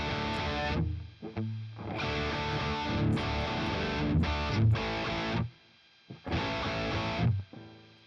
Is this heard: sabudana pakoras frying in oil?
no